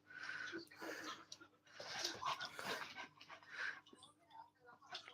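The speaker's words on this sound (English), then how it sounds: "and then the dogs became hooligans" Dogs whimpering, yipping and panting close by in repeated excited bursts, with a person talking over them.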